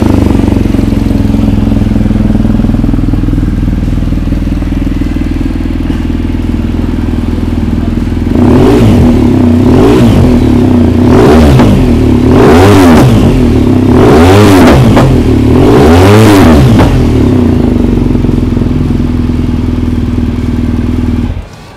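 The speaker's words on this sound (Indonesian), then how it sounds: "coba kita dengar suara Akrapovic full system di BMW GS K50" A BMW GS boxer motorcycle with an Akrapovic full exhaust system idles with a deep burble, then revs sharply five times in a steady rhythm before settling back to idle, loud and close.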